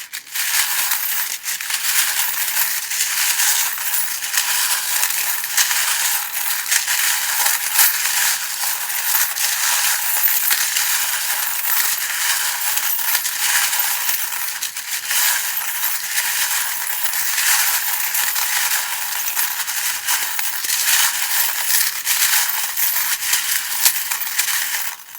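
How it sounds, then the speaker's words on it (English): Small tarot charms shuffled together in the hands, making a steady, close rattling jingle that continues unbroken for the whole stretch with no talking. "if you don't like the sound of the charms being shuffled, maybe just turn the volume down a little bit"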